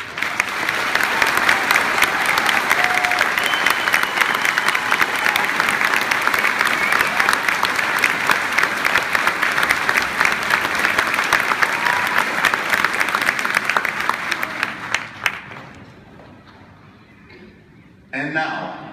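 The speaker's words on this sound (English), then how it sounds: "Would all students with honor stoles please stand and receive our applause." A commencement audience applauds honor students in stoles, dense sustained clapping from a large crowd lasting around fifteen seconds before fading out to near silence.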